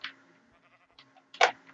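Sheep bleating in a video game: two short bleats, a faint one at the start and a louder, closer one near the end, separated by soft game sounds and a steady low hum.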